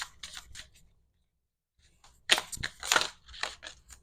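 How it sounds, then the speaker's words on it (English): Tarot cards shuffled by hand during a reading: two bursts of crisp riffling and slapping, a short one at the start and a louder, more energetic run after a brief pause, close and alone with no talk. "we're going to jump right in with some shuffling here"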